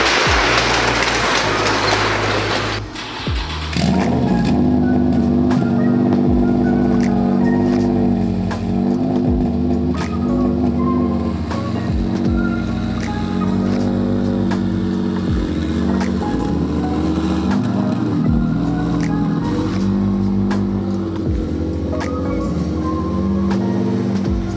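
A Z car's engine runs rough while driving, with a continuous loud drone that wavers and pulses unevenly throughout, without talk.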